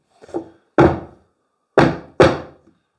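Glued shaker-style door frame being knocked at the tenon joint, four sharp hollow wooden thuds in a loose irregular pattern, close and fairly loud, with no voices.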